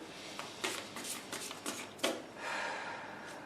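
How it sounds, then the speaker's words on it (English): A deck of tarot cards being shuffled up close and quietly, in several short riffling bursts followed by a longer soft rustle. "So here we are, fixed signs, a couple more shuffles here."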